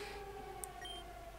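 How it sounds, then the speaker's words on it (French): Atomic alarm sirens in the video game Pokémon Uranium wail faintly in a steady, sustained tone with no other sound. "Vous entendez les sirènes atomiques?"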